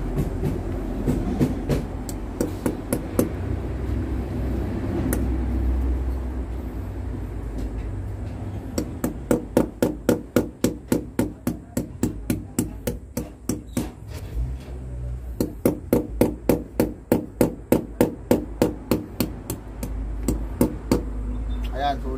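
Hammering nails into an unplastered wall while laying out a panel board: long runs of steady, evenly paced metallic blows, close and distinct, over a constant low background hum with brief pauses between runs.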